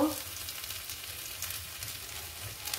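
Chopped garlic frying in hot oil, a steady soft sizzle that holds evenly throughout, close and moderately quiet with no talking.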